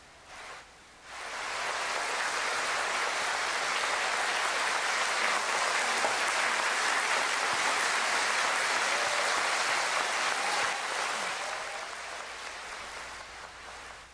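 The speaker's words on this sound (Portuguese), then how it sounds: "O pessoal que tá no rádio também pôde ouvir aí os aplausos, né?" Sustained crowd applause greeting minister Alexandre de Moraes, a dense, even roar of clapping lasting over ten seconds at moderate distance before tapering slightly at the end.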